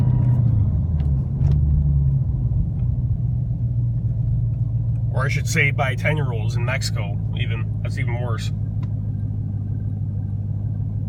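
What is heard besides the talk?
transmission noise of an idling Dodge Hellcat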